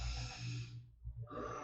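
A person demonstrates breathing up close, drawing one audible breath in through the nose and letting it out again, loud and unaccompanied by speech.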